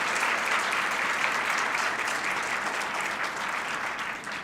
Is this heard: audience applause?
yes